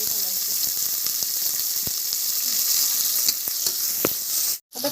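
Chopped onions fry for masale bhat, a Maharashtrian spiced rice, giving a continuous sizzle in a pan, with occasional sharp clicks of a spoon stirring against the vessel and a brief gap near the end.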